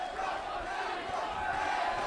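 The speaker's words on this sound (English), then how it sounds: "Listen to the crowd" A wrestling arena crowd roars in a sustained, dense wall of cheering and shouting, loud and reverberant throughout, with no break.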